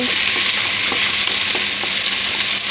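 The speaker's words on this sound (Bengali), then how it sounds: "কাঁঠালের আটিটা লাল লাল করে ভাজা হয়ে গেছে" Jackfruit seeds fry in a pan with a loud, dense, continuous sizzle, close up, with faint stirring ticks beneath and no voices.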